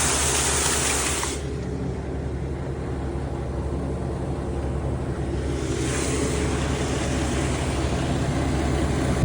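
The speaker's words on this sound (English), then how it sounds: "We're all hooked up and we're pumping in water." Steady rushing flow of water being pumped through a hose into a waste holding tank, a constant loud hiss and churn that brightens briefly at the start and again midway.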